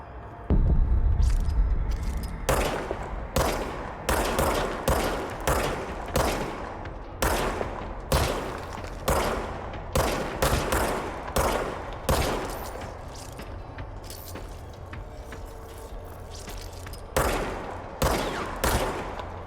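Gunfire in the game Control: repeated sharp shots in bursts, evenly spaced and loud, each followed by a brief decaying tail, with a low hum underneath.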